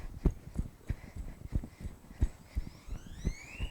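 A horse trots circles during cow-work preparation, its hooves clip-clopping in a steady, even rhythm of distinct hits, moderately close, with a faint rising electronic tone toward the end.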